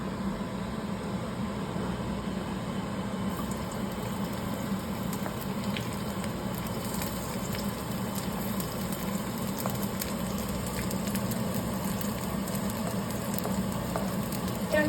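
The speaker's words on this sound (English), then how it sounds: "And now I'm just going to put the onions in." Onions, with a stray mushroom, sizzle in a hot pan while filet mignon and sautéed onions are being cooked; a steady, close crackling fry runs unbroken throughout, with occasional sharper pops and no talking.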